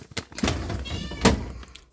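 A house cat meows in a kitchen where a meal is being cooked, giving a couple of short, fairly close calls set among light thumps and handling noises.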